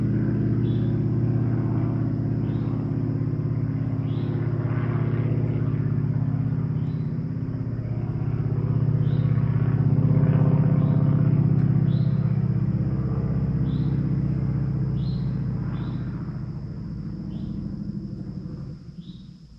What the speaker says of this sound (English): So hold on while this biplane goes by.